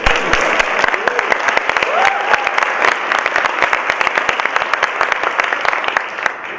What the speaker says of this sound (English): first of all, applaud her